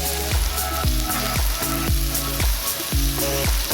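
Diced orange and red peppers fry in olive oil in a pan, a steady bright sizzle broken by regular rhythmic scraping strokes as they are stirred, close and alone.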